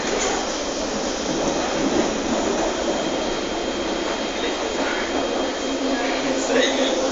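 A Singapore MRT metro train runs along, giving a steady, loud rushing hum with a faint high whine, continuous and unbroken from start to finish.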